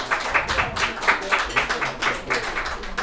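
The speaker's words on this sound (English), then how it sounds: "Round of applause again for Melanie Peterson" A folk festival crowd gives a performer a round of applause, heard as a steady, moderately loud wash of clapping with a pulsing rhythm that carries through the entire span.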